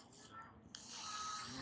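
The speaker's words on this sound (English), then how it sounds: "I got some Axe body spray. I don't really need any right now, but I'm going to spray some anyway." An Axe body spray aerosol can lets out a steady, close hiss that starts partway through and carries on to the end.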